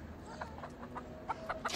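Faint, soft clucking from chickens nearby, a few short calls in loose succession over quiet background.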